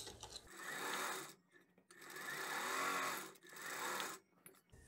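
A home sewing machine runs in three bursts of steady whirring stitches, with short pauses between, as it sews fabric for an aromatic pillow kit, starting and ending each seam with backstitching. The sound is close and alone.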